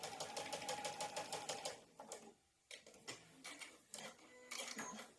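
A sewing machine stitches pieces of a heart quilt block in rapid rhythmic bursts of needle clatter, pausing briefly between runs, close and fairly quiet with no voices.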